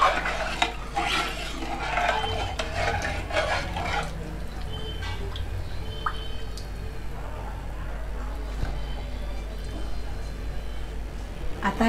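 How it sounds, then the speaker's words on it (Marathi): A spoon stirs dal khichdi with coriander in a pot, giving soft, repeated scraping and clinking that runs steadily under a low background hum. "आता व्यवस्थित हे हलवून घेऊया."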